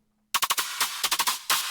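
Bright, buzzy Serum synthesizer lead notes stab out in rapid staccato bursts, loud and up front, with no talking.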